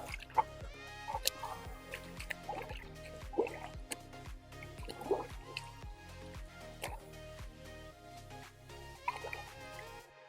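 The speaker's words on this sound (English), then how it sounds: "Let's clean these 2 sponges." Fluval FX4 aquarium filter sponges are squeezed and rinsed in water, making repeated rhythmic squishing and dripping sounds at close range, fairly quiet, with no talk.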